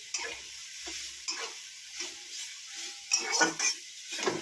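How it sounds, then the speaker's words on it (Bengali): Pumpkin greens frying with garlic and green chillies in a pan, with repeated bursts of stirring and scraping over a soft sizzle, close and fairly loud, no speech. "এটা একটু রসুনের ওপর একটু ভাজা ভাজা হবে"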